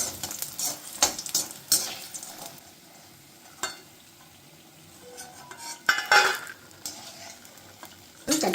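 Spice powder toasting in hot oil in a pan for a Bengali shukto, with intermittent scraping and clinking of a spatula stirring against the metal over a faint, low sizzle.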